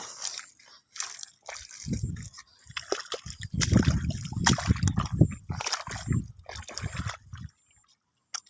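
Water is scooped and poured into a bucket at a tomato farm, with uneven splashes, sloshes and clunks in quick bursts. The sounds are close and fade out at the end.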